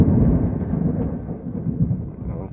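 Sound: rain outside during bad weather

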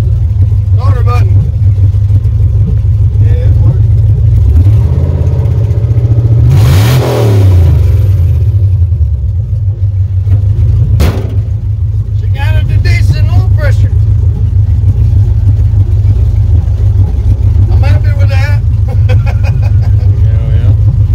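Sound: LS 4.8 V8 engine starting and revving in 1954 Chevy rat rod

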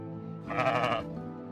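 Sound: sheep bleating in the video game Surviving the Aftermath

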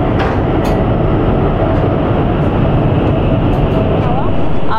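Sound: Chinese high-speed bullet train to Hangzhou running through tunnels

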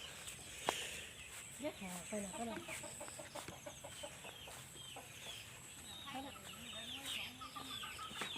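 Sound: black chicken clucking

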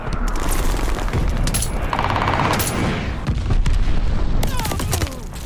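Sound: glide bomb explosion in Call of Duty Vanguard video game

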